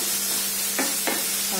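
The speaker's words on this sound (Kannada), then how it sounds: "ಎಲ್ಲ ಚೆನ್ನಾಗಿ ಮಿಕ್ಸ್ ಮಾಡಿ" Onions, green chillies and curry leaves fry in a pan for egg curry, a loud continuous sizzle with two quick stirring scrapes partway through and no voices.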